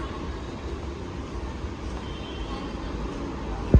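A low rumbling drone of a Nagpur metro train starting to move, steady mechanical noise from inside the carriage, ending in a sharp thump.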